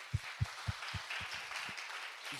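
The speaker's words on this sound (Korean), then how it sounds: "주님께 영광의 박수 올려드리겠습니다." Church congregation clapping in praise to the Lord, a faint series of about seven rhythmic low thuds in slow succession over a quiet roomy background.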